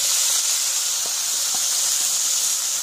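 Tomato puree poured into sizzling egg masala in a hot pan, giving a loud, steady, close hiss of steam and frying throughout with a few faint pops.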